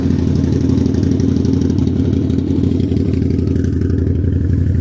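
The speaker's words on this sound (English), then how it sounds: "Probably can't hear anything because how loud that bike is too" A loud motorcycle engine on a Manhattan street rumbles steadily nearby, a throbbing low drone that stays close without fading away.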